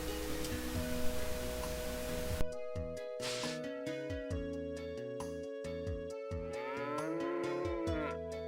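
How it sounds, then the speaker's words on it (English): Synthesized cow mooing from the video game Breath of Fire 3, drawn-out lowing calls repeated over a steady game music loop with sharp rhythmic tones, fairly quiet overall. "I like how they pull their wagons full of hay with milking cows."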